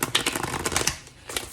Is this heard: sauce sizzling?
no